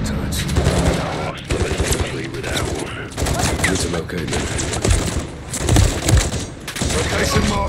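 Sentry turrets in Call of Duty Modern Warfare 3 pour out continuous rapid machine-gun fire, loud and dense with brief gaps, mixed with scattered gunshots and thuds while voices talk over the combat.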